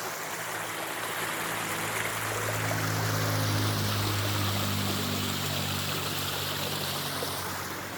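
A small forest waterfall and stream, with water rushing and splashing in a steady, full wash that holds constant throughout, close and fairly loud with no voices.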